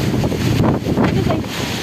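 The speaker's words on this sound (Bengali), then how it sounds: "বেশি বাতাস।" Strong wind buffets the microphone in a steady, loud roar that runs throughout, with faint rumbling gusts and no clear speech.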